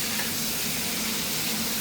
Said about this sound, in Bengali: এবার বেগুনগুলোকে ভালো করে ভেজে নেব।